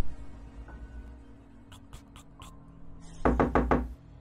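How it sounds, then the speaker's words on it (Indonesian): Knocking on a door in a dormitory at night, a few faint raps followed by a louder burst of four quick knocks, near and sharp with no voices. "Ngetok pintu kan."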